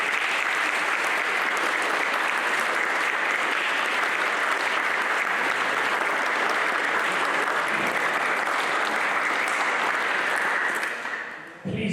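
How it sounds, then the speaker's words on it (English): Audience at a school charity debate applauds, sustained, dense clapping from a full room that holds evenly for about eleven seconds before breaking off abruptly. "Please can we also give them a round of applause."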